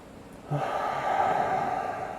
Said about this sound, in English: Breathe in deep. And breathe out.